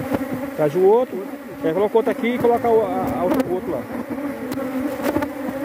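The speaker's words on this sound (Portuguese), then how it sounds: "ela é uma abelha muito grande, rapidinho ela puxa." A dense swarm of large bees buzzes loudly and steadily, close up, while a beekeeper transfers the colony from a bait box into a standard hive box with wax frames; someone talks over the droning throughout.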